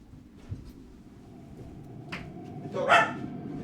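A dog in a household setting gives a single sharp bark near the end, after a soft click, with low room noise throughout.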